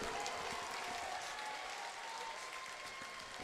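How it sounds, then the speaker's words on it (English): Audience applause for two boxers after a six-round bout at a boxing event, a steady dense wash of clapping throughout, moderately distant. "how about a nice round of applause one more time for these 2"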